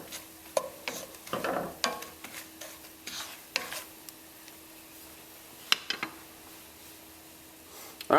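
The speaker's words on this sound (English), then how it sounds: "the almonds do not take long. You're just absorbing the oils, the butter." Almonds toasting in butter in a pan for trout almandine, giving soft sizzling and stirring scrapes with scattered ticks and clicks, moderately close and steady, with no talking.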